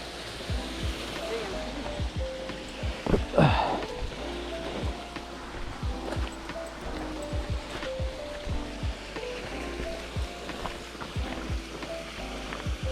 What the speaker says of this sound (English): Right into one of the main little waterfall sections right here.